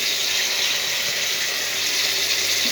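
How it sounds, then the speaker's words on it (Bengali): Water pouring steadily into a pan of cooked-down curry, a continuous broadband gush that runs unbroken and fairly loud from start to finish with no talk over it. "কষে গেছে আমার তরকারি, এবার জল দিয়ে দিচ্ছি।"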